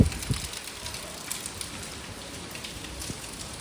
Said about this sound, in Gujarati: એટલો વરસાદ આવે છે